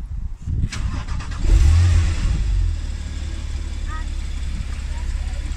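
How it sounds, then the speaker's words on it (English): A Porsche 911 Carrera S Cabriolet engine cranks and fires with a key, rising into a loud rev before settling into a steady idle, close up, with voices briefly heard. "So to start the car, you have to put the key in the ignition barrel, put the radio on, you put your foot on the brake, turn it, and"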